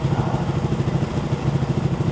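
A sportbike motorcycle engine idling and burbling at a casual bike gathering, a loud, close, steady throb with a rapid pulsing rhythm and no talk.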